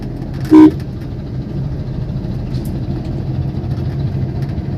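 One short, loud car horn toot rings out over a steady idling engine while overtaking in traffic, followed by continuous low road rumble.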